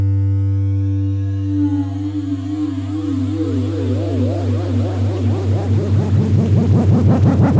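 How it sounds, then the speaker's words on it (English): A droning synth tone with warbling, sweeping harmonics, while a bright hiss of white noise steadily swells louder over several seconds. "that would be a white noise coming up here"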